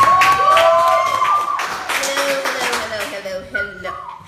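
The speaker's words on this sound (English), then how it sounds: "So Anais, let's clap her on right now, okay?" An audience claps at a talk show about acting, a short burst of close, quick claps that fades, with tonal sounds mixed in.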